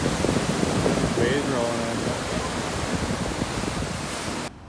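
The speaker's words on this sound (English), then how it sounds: "Waves rolling on." Ocean waves roll in steadily along the coast at Halifax, a broad, continuous wash of surf and wind that holds at a fairly even level with a faint bird call partway through.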